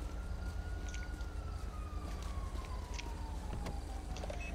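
A wailing ambulance siren from the game GTA V sweeps slowly in pitch as it draws closer, steady and fairly loud over continuous low traffic and engine rumble, with no one talking.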